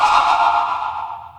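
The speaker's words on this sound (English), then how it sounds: "he made it faster and added tremolo to make it sound like this" A sped-up harp chord with tremolo added, made as a ghost Pokemon cry, sounds as a short, eerie, shimmering tone that pulses and thins out as it fades over about a second.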